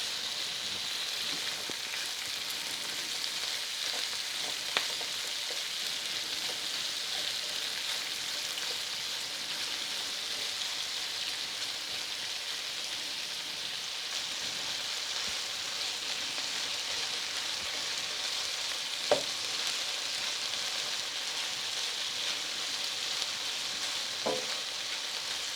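Onions fry in a pan with a long, steady, moderate sizzle and occasional faint ticks and pops scattered through.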